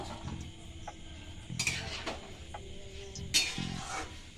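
Lentils being stirred in oil in a pan for niramish khichdi, with a few distinct scraping clinks of a utensil against the pan in short bursts over a soft background sizzle, close and fairly quiet.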